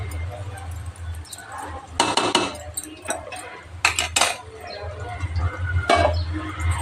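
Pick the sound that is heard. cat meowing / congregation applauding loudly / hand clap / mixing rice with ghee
mixing rice with ghee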